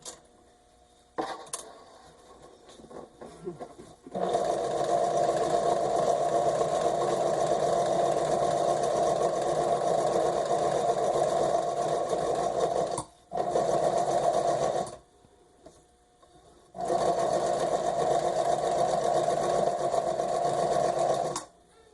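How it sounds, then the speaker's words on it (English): Sewing machine stitching a fauxdori notebook insert, a steady loud motor whir running in long bursts with brief pauses between, close and alone with no talk. "Make sure you don't sew your fingers."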